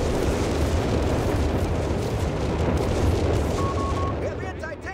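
Artillery fires in the World War II strategy game Company of Heroes 3: a dense, continuous barrage of booming blasts and rumbling impacts, loud and close, thinning out slightly at the end.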